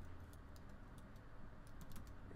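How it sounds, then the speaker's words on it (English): Faint, quick keystrokes click on a computer keyboard while someone types into a Windows command prompt. The taps come in light bursts over a steady background hiss, with no speech. "I'm going to start typing downloads, tab complete by hitting the tab button, hit enter."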